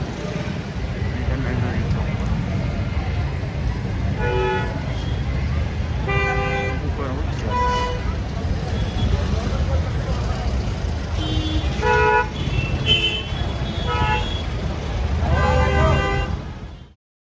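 Busy traffic on a hill-town road in Mussoorie, with repeated car horns honking in short bursts over a steady close rumble of engines, and people talking throughout.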